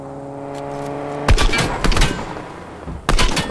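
Gunfire in Fortnite during a 100-player party bus match: a short burst of loud, sharp shots, then a couple of further bursts with gaps between them, heard over steady background game tones.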